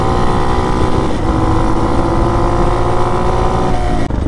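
Hawk DLX motorcycle fitted with a Delphi EFI system, its engine held at hard throttle, a loud, continuous, rough drone that barely varies and cuts off abruptly near the end, with no voices.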